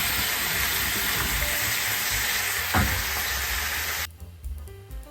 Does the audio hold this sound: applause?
no